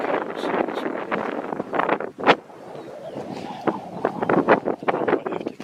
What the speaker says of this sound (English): when the wind not blowing so much